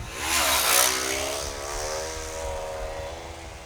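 A motorcycle passes close by, caught on a stereo microphone: the engine roar swells quickly to a loud peak, then recedes with a falling, buzzing engine tone that fades steadily.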